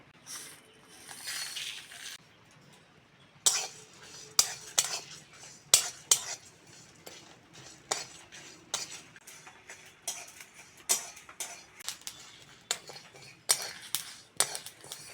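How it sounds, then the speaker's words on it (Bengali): Dry red chillies, fennel, white and black mustard seeds, cumin and panch phoron with a little salt roasting in a pan give off irregular sharp crackles and pops, sparse at first then coming in quick scattered bursts, close and alone. "মশলাটা ভাজা হয়ে গেছে ফটফট করে আওয়াজ হচ্ছে"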